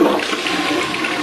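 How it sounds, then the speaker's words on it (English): A toilet flushes close by, a loud continuous rushing gush of water filling the whole moment without any talk. "if I flush the toilet"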